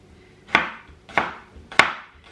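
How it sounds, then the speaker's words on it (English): Three crisp knife chops strike cucumber on a chopping board, evenly spaced about half a second apart, close and clear with no talk. "I cut them in half lengthways, and then half again, and then chop."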